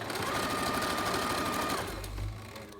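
A sewing machine stitches cloth for a fabric face mask in a steady, close run, then slows and stops as the needle drops at a corner.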